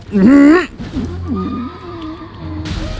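A horse summoned in the video game Elden Ring gives one loud, close whinny at the start, followed by quieter game ambience and faint low rumbling.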